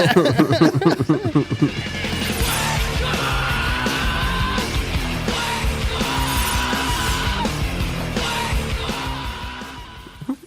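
A song from The Matrix plays loud and continuous, with distorted guitars, pounding drums and shouted vocals throughout.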